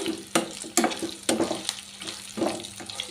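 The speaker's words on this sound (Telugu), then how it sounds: "చూసారు కదా చికెన్ అంతా ఇలా చక్కగా ఫ్రై అయిపోయింది" Chicken pieces fry in a pan with green chilies, giving a close, crackling sizzle broken by several sharp stirring clatters at irregular intervals and no voices.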